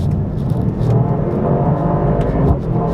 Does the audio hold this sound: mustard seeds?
no